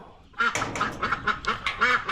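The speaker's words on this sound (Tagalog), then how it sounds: "dito naman yung ano, yung regular na pato lang." A duck quacks repeatedly in quick, raspy bursts, close and fairly loud, about eight calls in a couple of seconds.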